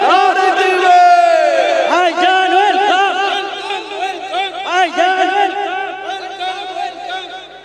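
A crowd at a Bengali Islamic religious gathering shouts a loud, chanted response in unison, voices swelling together in a few repeated calls close by.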